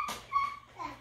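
Child imitates a dog with a short, high, whimpering bark-like yelp, a single brief call close by indoors.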